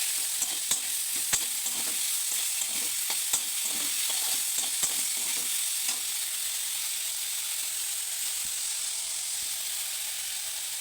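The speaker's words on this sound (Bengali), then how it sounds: "এই দেখো কত সুন্দর ভাবে কষাইতেছি, দেখো মানে ভাজতেছি" Banana stem curry stir-fried in a pan with green chili and chopped ginger, an even sizzling hiss broken by repeated clicks and scrapes of a spatula, louder at first and then settling into a steady fry.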